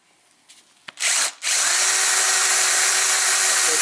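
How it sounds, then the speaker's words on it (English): A power drill starts after a few faint knocks and then runs steadily and loudly, a high whining grind boring into a damaged cylinder head bolt in a car engine, continuing without pause. "let's look at how this new drill bit works"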